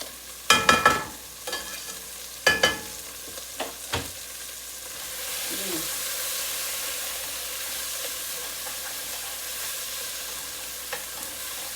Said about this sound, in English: I'm going to put the garlic in here now.